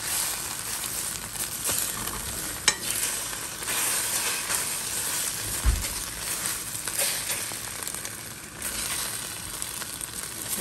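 An egg frying in a pan is broken into pieces with a spatula, giving a steady sizzle with a few sharp scraping knocks against the pan.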